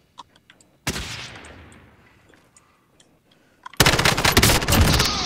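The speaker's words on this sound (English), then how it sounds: "Our buddy's shooting at somebody." Gunfire in the video game Call of Duty Warzone: a few faint ticks, then a sharp loud shot decaying into echo, followed later by a dense, close burst of rapid machine-gun fire.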